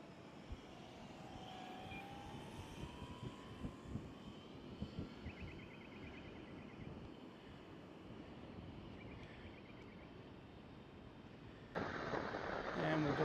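An FMS PA-18 model airplane flies low overhead near beaches and a gully, its small engine a faint, steady drone beneath wind noise, with a louder rushing burst at the end.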